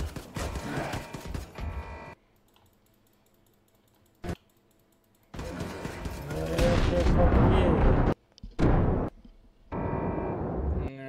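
Shotgun and gunfire bursts in the video game Wolfenstein II: The New Colossus, loud blasts separated by quiet gaps, with dense clattering stretches and some game dialogue mixed in.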